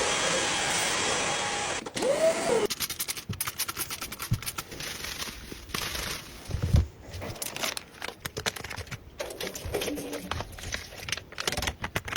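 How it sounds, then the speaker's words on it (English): A small electric household cleaner runs with a steady whirring hum for a couple of seconds. Close, crisp clicking and crinkling handling noises follow. "This is an electric cleaner."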